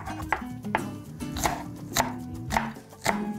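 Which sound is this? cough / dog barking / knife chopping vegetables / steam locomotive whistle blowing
knife chopping vegetables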